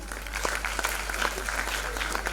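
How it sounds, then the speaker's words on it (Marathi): Dense applause from a large audience at an award ceremony in Pune, steady and fairly loud throughout with many overlapping claps. "टाळ्यांचा गडगडाट कमी होतोय"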